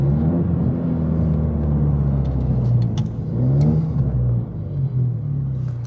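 A Ford Mustang fitted with new drag wheels accelerates on a street, a loud close engine note that climbs in pitch through the revs, eases off, then builds again.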